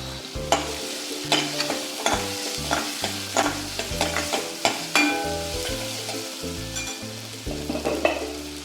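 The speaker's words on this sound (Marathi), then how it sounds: "थोडा कांदा लसूण छान परतलं गेलं आहे" Onion and garlic sautéing in a pan with asafoetida and turmeric, a crisp close sizzle broken by repeated rhythmic scrapes and clinks of a spoon stirring, with no talking.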